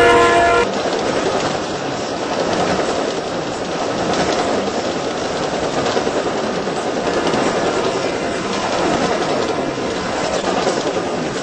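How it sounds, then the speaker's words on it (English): A video game commuter train, an NJ Transit Arrow III at Princeton Junction, NJ, rumbles steadily into the station, a continuous loud clatter and whoosh with a brief horn-like tone at the start, no voices. "A train is approaching the station."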